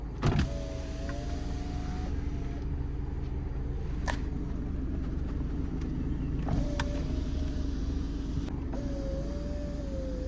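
Rear power windows on a Mercedes-Benz C200 W203 run on automatic, several motor whines rising and stopping over a low idling rumble, with thumps as the glass reaches its stops; no speech.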